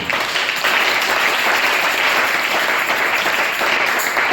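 A church congregation applauding with steady, dense clapping that fills the space, loud and sustained throughout with no pauses.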